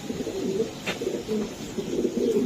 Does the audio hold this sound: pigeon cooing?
yes